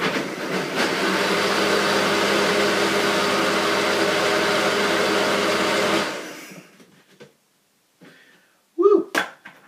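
A blender whirs steadily and loudly as it mixes a sweet potato protein smoothie, then winds down and stops after about six seconds. A few faint knocks and a short exclamation follow.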